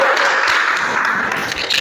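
Classroom applause for a student presentation group, a short burst of dense clapping from a group of listeners, loud and close, with no talking.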